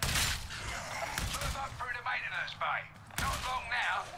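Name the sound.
gunfire from a gun in the video game Darktide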